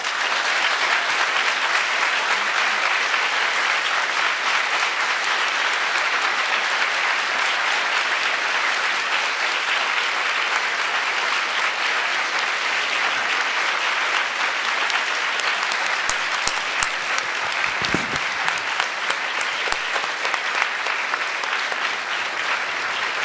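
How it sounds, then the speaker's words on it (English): A university audience gives sustained applause after a public conversation on gender violence, loud dense clapping held at a steady level for over twenty seconds, with a brief voice near the end. "please let them know by the round of applause"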